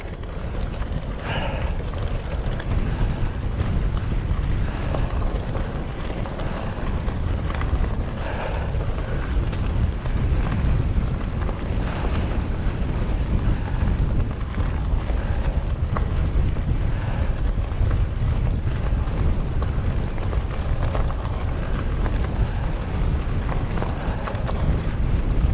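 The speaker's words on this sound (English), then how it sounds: "Now then, wind's getting up now." Strong wind roars and buffets the microphone during an e-bike ride near Glencoe, a continuous loud rush with no voices.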